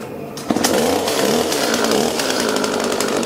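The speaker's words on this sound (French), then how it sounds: "Première fois que j'utilise une tronçonneuse" A chainsaw starts up and runs steadily at high revs, a loud continuous buzzing drone that holds for several seconds without letting up.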